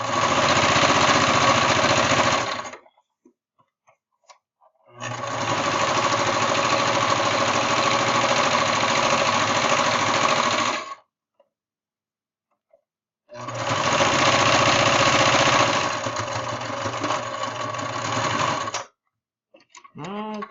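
A sewing machine stitches T-shirt fabric in three long, loud, steady runs of rapid mechanical whirring, separated by short pauses, close to the listener.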